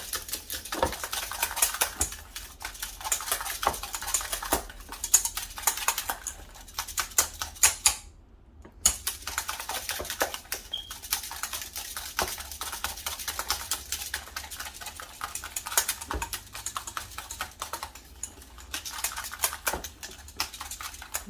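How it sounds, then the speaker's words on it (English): Eggs being whisked in a bowl for Greek avgolemono soup, a steady rapid ticking and tapping that runs nearly continuously, close by, with one brief pause. "So just keep whisking."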